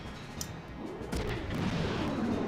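Missile launch in the combat game FM3, a heavy boom with rumbling low-end blast and some smaller shots around it, loud and sustained against a busy battle background.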